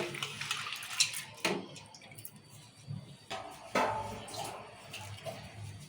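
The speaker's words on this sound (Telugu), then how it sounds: "సో నీట్గా శనగపప్పు అయితే కడిగేసింది" Chana dal being washed in water, with soft splashes, swishing and trickles coming in irregular bursts at close range, fairly quiet overall.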